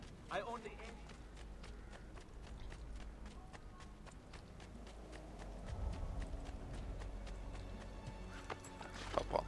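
A horse in the game Assassin's Creed II gallops with steady rhythmic hoofbeats, whinnying at the start and again at the end, while someone talks over it.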